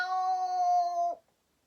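A person imitates a cat's meow with a single sustained, tonal vocal lasting about a second that ends abruptly, close and clear with no other sound around it.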